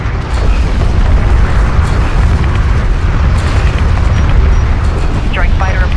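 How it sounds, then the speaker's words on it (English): A gun turret under attack in the real-time strategy game Homeworld: Deserts of Kharak, with loud, continuous explosions and booming impacts rumbling throughout, mixed with battle noise and faint radio-style chatter. "One of our turrets is taking fire."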